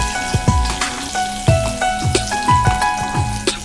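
Chillies and curry leaves for a tempering fry in hot oil, giving bursts of crackling pops and spatters in a loose, repeating rhythm over a soft sizzle, close by with no talking.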